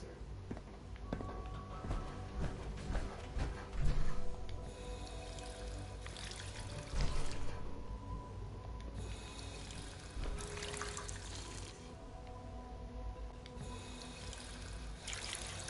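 Water pouring in the Fallout 4 game: a continuous splashing, tap-like flow with surges in intensity, heard at moderate volume beneath a game soundscape.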